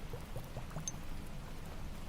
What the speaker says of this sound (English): I love the sound of the rain. It's very relaxing.